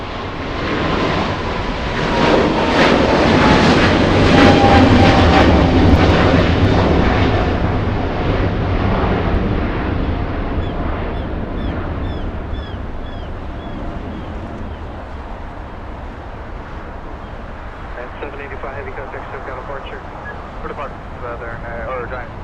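DHL Boeing 777 cargo jet taking off from runway 25 left at Los Angeles International Airport, a loud rumbling roar that swells, then slowly fades into the distance, with a voice talking over it.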